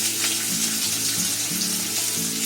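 Sliced onion and green chillies fry in oil with a constant bright sizzle, accompanied by a faint tonal hum in the background.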